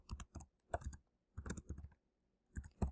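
Quick typing on a computer keyboard while entering text into a PowerPoint text box, clustered runs of light, close key clicks separated by short pauses, with no talk.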